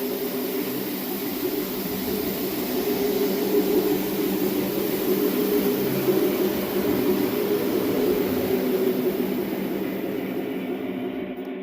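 A model train locomotive's electric motor runs at speed on a home layout, giving a steady close whirring hum with a faint rhythmic clatter that holds evenly throughout, with no talking.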